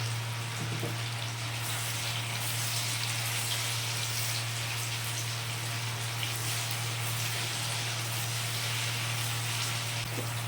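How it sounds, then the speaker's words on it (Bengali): Paneer cubes fry steadily in oil in a pan, giving a continuous, even sizzle with fine crackle throughout, fairly quiet and close, with no talking. "বেশিক্ষণ ধরে ভাজলে পনির শক্ত হয়ে যায় তাই আমি বেশিক্ষণ অল্প একটুখানি ভেজে তুলে নেব"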